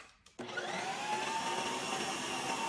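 A Ninja Creami whirs to life after a brief quiet start, spinning a frozen peach ice cream mixture with a steady, loud motor hum and grinding whine that holds constant to the end.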